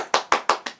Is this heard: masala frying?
no